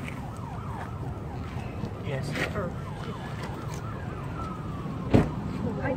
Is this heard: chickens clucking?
no